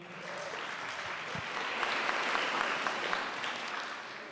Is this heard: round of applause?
yes